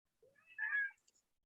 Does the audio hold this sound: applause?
no